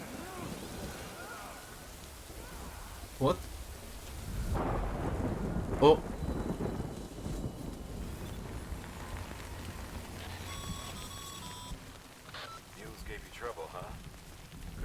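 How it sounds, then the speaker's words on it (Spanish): Rain and rolling thunder in a Death Stranding video game cutscene: steady rainfall with low rumbles and a couple of sharper cracks, while a voice speaks briefly over the storm. "el cinemática se pone a llover"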